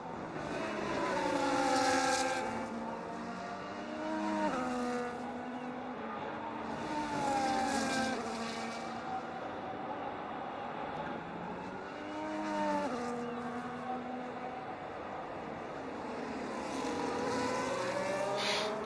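F1 race cars from a Singapore-round F1 video game race roar past in repeated sweeping waves, engine pitch rising and falling as cars go by, steady and moderately loud throughout.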